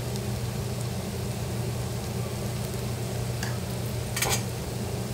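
Thick baingan bharta being stirred and mixed in a pan, a steady low scraping and churning with a faint sizzle throughout, plus a brief sharper clatter near the end; no voices.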